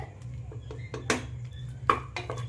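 Cooked mutton is poured from one pot into another, giving scattered metallic clinks and scrapes of cookware, fairly quiet and close, with two louder knocks.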